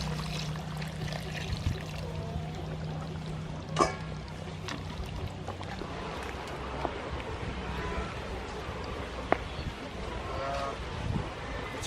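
Coconut milk is poured into a pot of chicken curry with roasted peanut, a steady liquid pour running for about twelve seconds under a noisy background, broken by a few brief clinks.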